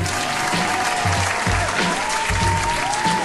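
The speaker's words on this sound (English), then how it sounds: "Big round of applause on this one too" A crowd clapping steadily, a dense continuous patter under a pulsing low beat.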